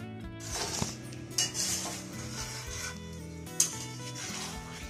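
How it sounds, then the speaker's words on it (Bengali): Paneer and masala spices are stirred in a pan, with a spoon scraping and clinking against metal in a steady rhythm and a few sharper knocks, over a continuous tonal background. "দেখো পনিরের সাথে আমি মশলাটা ভালো করে মিশিয়ে নিচ্ছি।"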